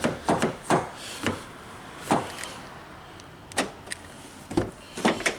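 A Citroen C4 car door with its lock under repair and its inner panel removed is closed and opened several times, giving sharp close clunks and latch clicks spaced irregularly with quiet gaps between.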